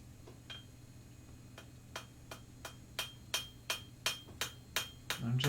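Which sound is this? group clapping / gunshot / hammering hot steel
hammering hot steel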